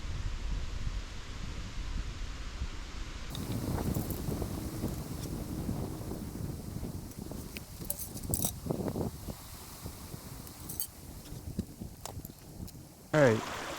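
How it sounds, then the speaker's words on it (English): Steady 10-15 mph wind buffets the microphone in the open while fly fishing in North Carolina's Blue Ridge Mountains, a low rumbling gust persisting under faint rustling and a voice speaking. "it's a pretty good wind, probably 10-15 miles per hour here in the open"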